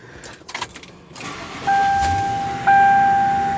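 A car with several faults starts up after some handling noise: a brief rustle and clatter, then a steady engine whine that steps up louder about a second later and holds, close by.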